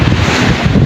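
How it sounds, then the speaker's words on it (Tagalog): Strong wind roars and buffets the microphone in a steady, loud rush, drowning out everything else. "Lakas ng hangin."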